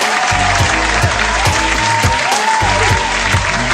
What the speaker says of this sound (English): Give yourself a round of applause for joining us here today.